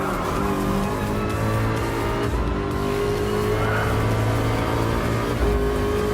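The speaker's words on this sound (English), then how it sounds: "I love the sweet sound of the strong engine coming up on multiple passes" A steady, loud engine drone with sustained tonal whine from Gran Turismo Sport Gr.3 race cars, including a Ford GT LM Spec II, running at speed, with hints of tire noise and no talking.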